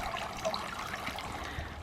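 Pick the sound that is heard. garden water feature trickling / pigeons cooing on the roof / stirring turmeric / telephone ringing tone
garden water feature trickling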